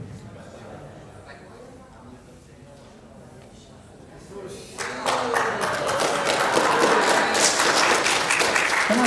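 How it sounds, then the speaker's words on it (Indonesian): Applause from an audience at a presentation swells in partway through, becoming dense, close clapping, while a voice speaks over the quieter opening. "Kenapa tepuk tangan?"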